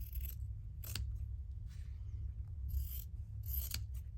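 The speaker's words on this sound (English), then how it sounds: "Let's just cut this." Scissors snipping through linen fabric, several short crisp cuts with sharp blade snaps at irregular intervals, close and clear over a quiet low hum.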